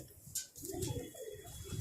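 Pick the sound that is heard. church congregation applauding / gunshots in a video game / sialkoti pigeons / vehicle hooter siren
sialkoti pigeons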